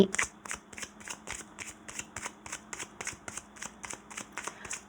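Tarot cards shuffle in an even, rhythmic series of soft riffling bursts, about three per second, heard up close and alone at a low level.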